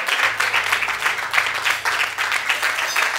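A church congregation claps hands in praise, a loud, steady wave of many hands with a slight pulsing rhythm, a low organ or keyboard note held underneath.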